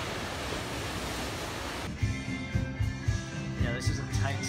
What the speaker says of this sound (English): So now we're just kinda checking out the ocean for a little bit.